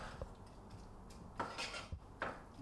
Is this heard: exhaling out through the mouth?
no